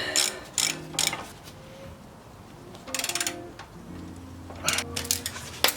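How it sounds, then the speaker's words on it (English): Ratchet wrench tightening the toe nut on the coilovers of an Acura RSX Type S, several short bursts of rapid clicking separated by pauses, close and fairly quiet, with no talk. "Just need to put the nut back on the toe, and tighten it"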